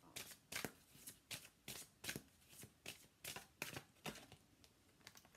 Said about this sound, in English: Archangel Michael wants to pull in a card here